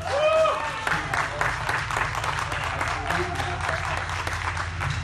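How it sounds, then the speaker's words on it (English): Applause from a festival crowd at a blues band's live set in Romania, a soft, diffuse patter of clapping that runs steadily throughout, with low stage hum beneath and a brief tone near the start. "Please give them a nice round of applause, man."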